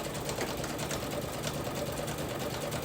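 A sewing machine fitted with a circular stitching attachment runs a feather stitch, a steady close mechanical whir with rapid needle rhythm throughout, no voices.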